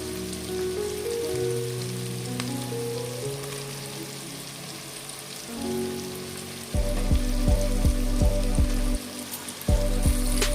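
Cut ridge gourd and eggplant sizzle and fry in a pan, making a steady, close crackling hiss that grows fuller partway through, with a looping tune playing underneath.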